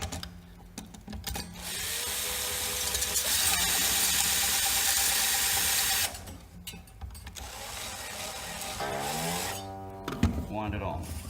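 A new guitar string being wound onto the tuning peg gives a steady, close whirring, ratcheting run for about four seconds, then softer handling noises and short squeaks as the string tightens.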